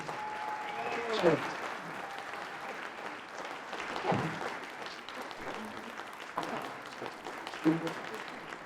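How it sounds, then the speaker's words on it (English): Audience applause at a fireside chat leadership award event, moderate clapping from a seated crowd sustained throughout, with a few sharper bursts and voices heard faintly underneath. "Let's give a round of applause."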